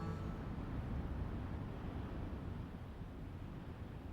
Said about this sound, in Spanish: Lo único que queda es el sonido del mar.